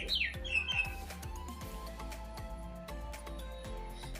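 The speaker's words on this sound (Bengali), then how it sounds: "যে শালিক ডাকতেছে" Common myna calling near a home kitchen, a few harsh squawks and chirps early on, fairly close, then fading under a steady background hum.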